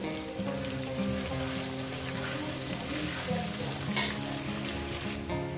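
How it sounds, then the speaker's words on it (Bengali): Malabar spinach stalks seasoned with turmeric fry in a pan, giving a steady, continuous sizzle with a faint melodic background running underneath. "আমি কি সুন্দর করে ভেজে নিয়েছি ডাটাটাকে"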